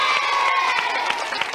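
Children in a TV game show studio audience cheer and clap for a contestant, a short burst of high shouts and whoops over scattered applause, fairly loud and sustained.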